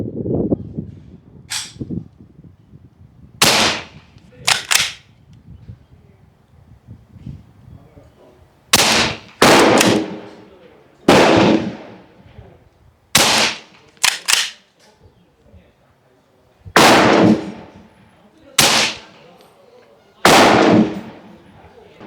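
Repeated shots from a BinTac PA 30 pump-action air rifle at an outdoor range, about a dozen sharp cracks spaced a few seconds apart, some in quick pairs, with quieter pumping and handling noises in between.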